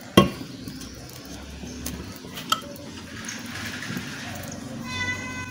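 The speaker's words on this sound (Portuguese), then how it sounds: "Gente, tá ouvindo um miadinho aí?" A kitten meows in a workshop, a few thin, high cries scattered among clinks and scraping handling noises, with a sharp knock near the start and faint background activity.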